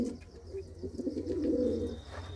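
A black male pigeon and his female coo softly and continuously, close by, over a low steady background hum.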